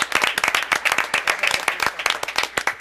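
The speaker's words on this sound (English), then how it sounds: "encourage everybody to join me in a round of applause" Audience members at a town board meeting clap in a brief round of applause, a fairly sparse patter of distinct hand claps heard close, steady for a few seconds.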